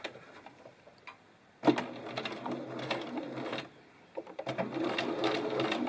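A sewing machine stitches an invisible zipper tape in two steady runs of fast, even mechanical clatter, close up, separated by a brief pause.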